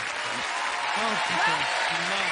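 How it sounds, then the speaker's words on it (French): A television studio audience on a French comedy game show applauds in a loud, continuous wash of clapping, with a voice talking over it. "Et on applaudit très fort"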